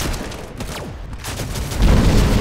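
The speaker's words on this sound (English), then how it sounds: "Grenade out!" A grenade explodes in the Shadowgun shooter game: busy gunfire and effects give way to a loud, low rumbling blast that swells near the end.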